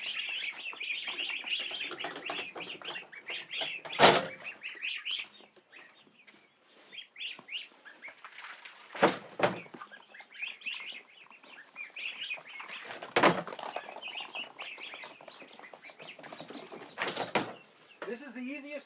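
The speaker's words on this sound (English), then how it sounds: "There's like 7 ducks and the 6 geese." Seven ducks and six geese honk and quack in a barn, with scuffling, flapping bursts and a person talking over the birds.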